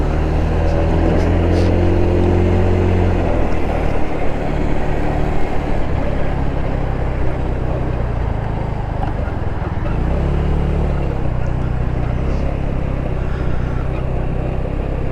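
A GY6 150cc scooter engine fitted with a new exhaust, droning loud and steady while riding, its pitch rising and falling with throttle changes, no voices over it.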